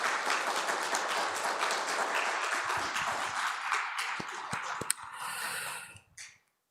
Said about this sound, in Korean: 여러분 감사의 박수 한번 부탁합니다